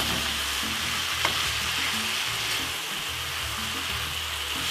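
Carrot and mixed peppers stirred in a hot pan, a steady close sizzle of frying vegetables with low scraping thuds from the spoon running throughout, no voices.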